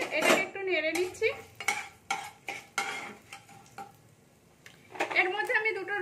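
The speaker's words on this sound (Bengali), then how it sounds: "এটাকে একটু নেড়ে নিচ্ছি" Toor dal being stirred in a pan with mustard seeds and cumin, a spoon scraping and clinking against the cookware amid light sizzling, with a person speaking at the start and end.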